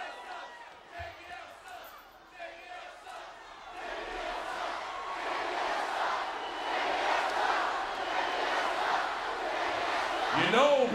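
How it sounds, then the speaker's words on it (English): A hostile wrestling crowd in a Memphis arena shouts and roars, swelling into a loud, sustained din that fills the scene, with some talk heard over it. "this hostile crowd here in Memphis"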